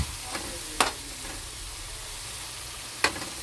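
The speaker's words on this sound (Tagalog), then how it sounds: "Palituin lang natin kasabay ng kamatis bago natin ilagay yung ating meat, pork." Tomatoes sauté in a hot pan for a tofu and pork dish, giving a steady close sizzle broken by a few sharp spatula scrapes and clicks as they are stirred.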